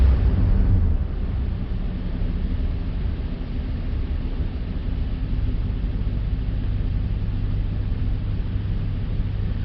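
A 2006 Nissan Titan engine with oxygen sensor faults, a loud steady low rumble with a brief surge at the start as gas is applied, then holding at an even idle-like drone, close up.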